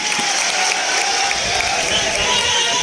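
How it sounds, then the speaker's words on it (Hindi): Audience at a political gathering applauding to welcome a speaker, a dense, continuous wash of clapping with crowd noise, steady and fairly loud. "जोरदार ताली से स्वागत करें डॉक्टर लक्ष्मण यादव जी"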